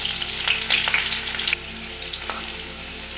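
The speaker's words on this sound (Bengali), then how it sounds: "এবার এর মধ্যে আমি যে পেঁয়াজ কুচিটা করে রেখেছিলাম সেটা ভেজে নেবো ভালো করে" Chopped onions fry over low flame in hot oil, a loud close sizzle with scraping stir strokes, fading slightly partway through.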